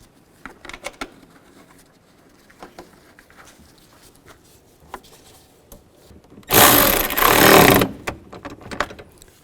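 Bolts go into a radiator cooling fan on a 2011-15 Kia Sorento: scattered faint metallic clicks and taps, then a loud, close burst of a power tool lasting about a second and a half as a bolt is run down.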